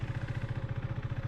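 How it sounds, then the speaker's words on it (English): A motorcycle engine idles in first gear while the bike rolls slowly, a soft, even chugging pulse with rapid regular beats that is quiet and steady with no speech. "this is literally the idle revs of the bike, of the engine doing the business"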